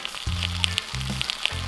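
White onion sizzles as it cooks in a pan, a steady crackling hiss with small pops, heard close up alongside a low, stepped hum.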